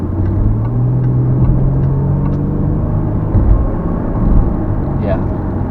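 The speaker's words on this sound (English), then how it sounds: "You hear the supercharger whine a little bit?" Jaguar XJ supercharger accelerating on the road, heard from inside the cabin as a steady engine drone with a faint tonal whine riding over the rumble for several seconds.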